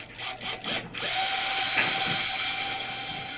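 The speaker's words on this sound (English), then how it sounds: "I don't want to drill too big of a hole because I want the screw to have enough bite to clamp into the wood." A power drill boring a small pilot hole into the wood of a 1940s school master's desk, a steady whirring drone lasting a couple of seconds after a few short bursts, close and fairly loud with no talk.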